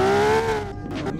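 A loud supercar in a video game revs with a strong, sustained engine tone that slowly drops in pitch, steady and close throughout.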